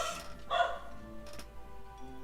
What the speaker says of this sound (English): we've got a very excitable dog